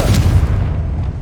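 A Confringo explosive spell goes off in Hogwarts Legacy as one close, heavy boom that quickly fades into a low rumble.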